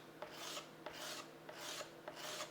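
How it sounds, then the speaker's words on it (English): A scraper dragged across scratched, gouged plastic, soft rasping strokes repeating at a steady pace, quiet and close with no talking. "As you scrape, you can see it's just taking small amounts of material away, and you can see the plastic starts to become white again"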